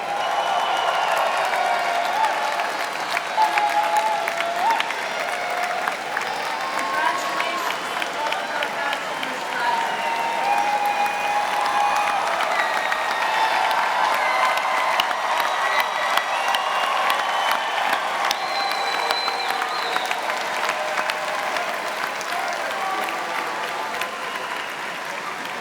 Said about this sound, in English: Ladies and gentlemen, let's have one more round of applause for our graduates.